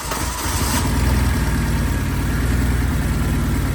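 A Mercedes SLK engine idles steadily after an injector upgrade, running rich, with a low rumbling pulse and faint mechanical vibration, close and continuous throughout.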